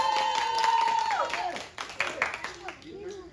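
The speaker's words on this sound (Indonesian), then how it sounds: "boleh tepuk tangan dulu" An audience at a literary and art festival breaks into scattered applause that starts under a speaker's voice and comes through as a light, uneven patter.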